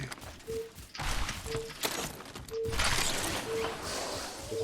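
Gunfire in the video game Apex Legends comes in several sharp bursts of crackling shots, moderately loud, while a short electronic beep repeats at a steady pace about once a second.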